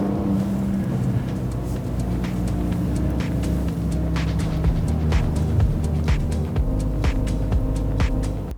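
A new Porsche Panamera luxury car cruises along, its engine giving a low, steady throbbing rumble with road and cabin hum and faint ticks throughout, no talking.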